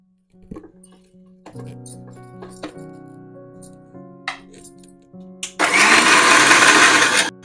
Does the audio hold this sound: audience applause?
no